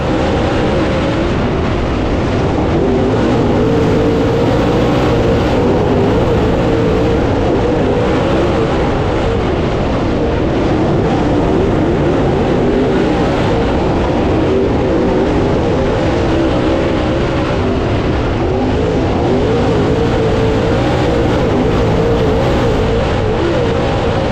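A pack of dirt late model race cars roars through the start at Senoia Raceway, a loud, continuous wall of engine noise that holds steady throughout with no pauses.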